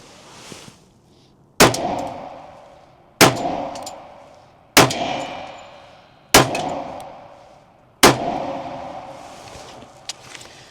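A 10mm Smith & Wesson M&P Carry Comp pistol fires five sharp, loud shots at roughly even intervals of about a second and a half, each crack followed by a ringing decay outdoors.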